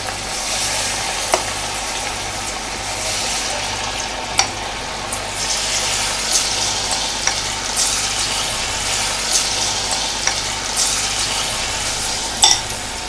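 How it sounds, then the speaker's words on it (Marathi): Moong dal bhaji batter spooned into hot oil, frying with a loud, steady bubbling hiss, broken by a few sharp clinks of the spoon at the pan. "आता होय आपला तेल तापला. मी आता चमच्यान आपल्या मुगाची भाजी छोटीच असतात तशी सोडून घेते."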